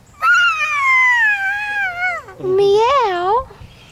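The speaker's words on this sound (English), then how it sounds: "It's a kitty cat?" A cat meows twice up close and loud: a long, drawn-out falling meow, then a shorter, wavering one after a brief gap.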